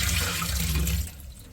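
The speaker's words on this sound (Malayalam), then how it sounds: "നമ്മൾ നാലാമത്തെ വെള്ളമാണ് ഒഴിക്കാൻ പോകുന്നത്" Water is poured steadily into a vessel while washing arrowroot starch at home in Kerala. The splash is close and loud for about a second and then fades to a quieter trickle.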